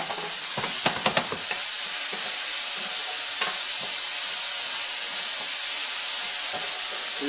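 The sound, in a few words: chopped onion sweating in a pan with salt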